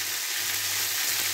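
Ingredients for sambhar fry in a pan with a steady, close sizzle and crackle that runs without a break and has no talk over it.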